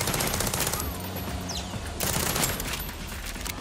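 Rapid gunfire in the jungle shooter Far Cry 6, bursts of automatic shots crackling close and loud, a brief lull midway before another dense volley.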